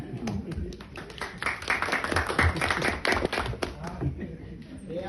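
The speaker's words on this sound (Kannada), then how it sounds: "ಚಪ್ಪಾಳೆ" An audience at a Kannada speech-and-song event claps in quick, patchy bursts, mixed with taps and a steady murmur of voices, fairly faint and somewhat distant.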